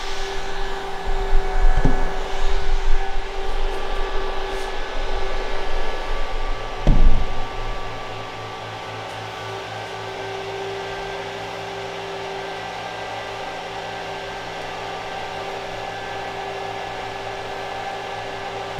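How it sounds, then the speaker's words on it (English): Cooling fans on a crypto mining rig run as a steady whir with a constant tonal hum, joined by a couple of brief knocks and rattles early on before the drone settles into an even, unbroken level. "this fan here isn't moving and this fan is moving"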